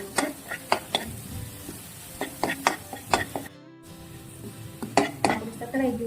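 Garlic and ginger sauté in a pan for Manchow soup, a soft sizzle under repeated sharp clinks and scrapes of a spoon stirring against the metal, with brief pauses between strokes.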